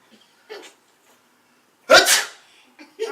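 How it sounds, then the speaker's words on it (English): A person lets out a single loud, sharp sneeze, preceded by a short breathy sound and followed by brief quieter vocal noises nearby. "that's a real sneeze"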